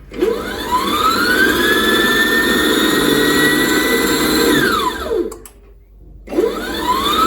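A Unie 1000W stainless steel 5-litre stand mixer run on pulse: a loud motor whine ramps up and holds, cuts off about five seconds in, then kicks back on after a short pause.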